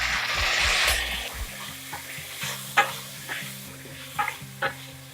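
Tomatoes and onions frying in a pan for Tamil tomato chutney crackle and sizzle, a louder burst early on, then softer stirring scrapes and occasional taps of a spoon against the metal.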